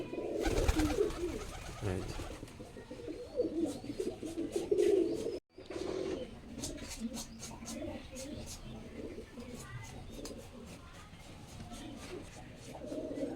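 Giribaz pigeons from Rajshahi coo softly in a loft, low murmuring calls running throughout amid other bird sounds and background activity, with a brief dropout partway.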